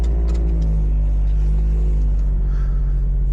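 An Acura RSX Type S with a six-speed manual idles after starting, a steady low rumble with a faint whir on top, heard close and alone without speech.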